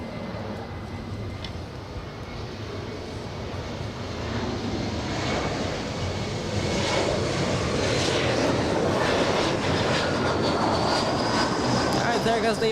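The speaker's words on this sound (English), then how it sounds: "There goes the E-175" A SkyWest Embraer E-175 jet arriving at LAX roars in, its engine noise growing louder from mid-clip into a sustained whining rush with a rising tone near the end, with someone talking over it.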